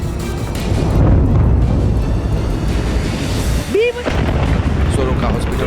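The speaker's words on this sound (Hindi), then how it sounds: "सोरोका हॉस्पिटल पर मिसाइल गिरने के बाद तेज धमाका हुआ" An Iranian missile explosion at Soroka hospital in Beersheba, Israel: a loud, sustained broadband roar and rumble, with a brief rising tonal whoosh near the end.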